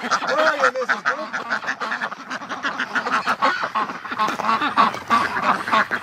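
Ducks quack and honk steadily and loudly at close range, a busy overlapping chorus from a flock of breeding ducks with no pause across the stretch.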